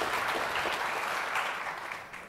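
An audience at a legal convention gives a short burst of steady applause that fades away over about two seconds, with no talking on top.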